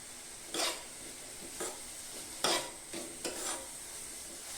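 Chopped onions and curry leaves frying in a pan, with a steady soft sizzle broken by a few sharp scraping stirs of a spoon against the pan, close by with no talking.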